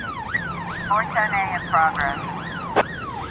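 Ambulance siren in the police-management video game This is the Police, wailing up and down in a steady sweeping pattern, loud and close, with brief overlapping tones and a short sharp click near the end.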